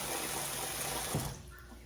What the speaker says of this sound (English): We fill it up with water.